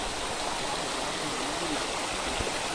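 A small waterfall in the hills beneath a large cliff, a dense, steady rush of flowing water filling the whole stretch, close and unbroken, with no clear talk over it.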